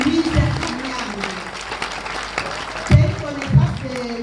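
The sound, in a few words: audience applause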